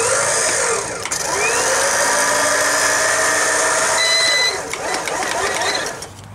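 Electric recovery winch powered through a newly added toggle switch, whining steadily with a motor hum that shifts pitch as it runs, pauses briefly near the middle, then resumes, loud and close with no talking.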